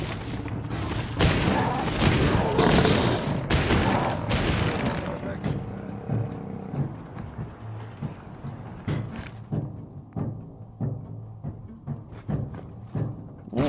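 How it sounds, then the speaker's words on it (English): Rapid gunfire from the Fallout 4 Far Harbor game, a dense burst of shots and booms in the first half that thins into scattered, sharp reports, with game sounds around them. "Doing more damage just dumping shots into it."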